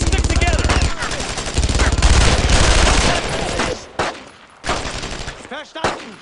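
MG-42 machine gun fire in Brothers in Arms rattles in a long, loud continuous burst, then thins into separate shots and short bursts, with voices shouting over the battle.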